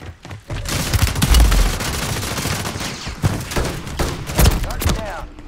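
Rapid bursts of gunfire in Call of Duty Modern Warfare 3 crackle almost nonstop for several seconds, loud and close, with heavier shots punching through a dense battle mix.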